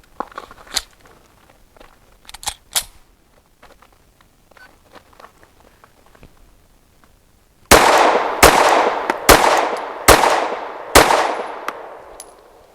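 Five loud, sharp pistol shots from a PSA Dagger Micro fired at a steady pace, each with a bright ringing decay, following a stretch of quieter handling clicks and knocks.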